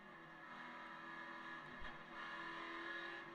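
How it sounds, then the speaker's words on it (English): Race truck engines at Gateway drone at high throttle, heard faintly and at a distance as a broadcast roar with a brief passing surge midway, and no voices. "listen to Hacker's throttle"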